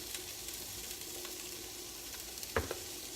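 Brussels sprouts with dried cranberries being stirred in a frying pan, a faint, steady sizzle with light scraping and one sharper clack of the spoon near the end.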